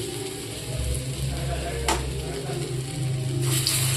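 Soya chunk paste dropped bit by bit into hot mustard oil for a vegetarian kofta curry, giving a steady, close sizzle with a low rumble, a brief sharp crackle midway and a brighter burst near the end.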